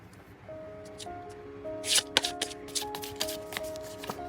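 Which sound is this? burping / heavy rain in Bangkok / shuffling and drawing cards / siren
shuffling and drawing cards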